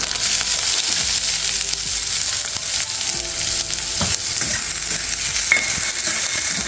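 Onion fries in hot oil with curry leaves and green chillies for vermicelli upma, sizzling loudly and steadily close up while a spoon stirs and scrapes, with no talking.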